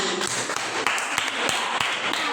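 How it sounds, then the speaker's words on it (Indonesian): Scattered hand claps from a small classroom group of pupils, a few sharp distinct slaps over a noisy room background, brief and sparse rather than a full ovation. "Tepuk tangan."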